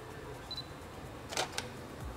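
A Canon 6D Mark II camera takes a photo: a crisp two-part shutter click, close and fairly quiet, over a soft indoor hiss.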